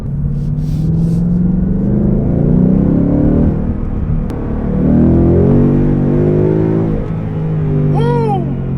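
A 2019 Mustang GT PP2 engine rumbles deep and loud close by, revving up and settling back in slow waves, with a brief squeak near the end.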